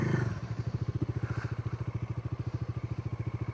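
A motorbike idles and putters steadily on a sand beach while being turned around, its engine pulsing in an even, rapid rhythm at close range with no talking.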